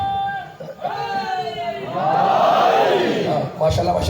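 Large seated gathering raising a loud chant together, a swelling roar of many voices that follows a single man's singing call, rising strongly and carrying on in unison.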